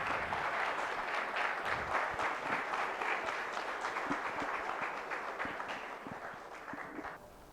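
An audience claps loudly for a student project team at a competition, a sustained burst of dense applause that gradually tapers off toward the end.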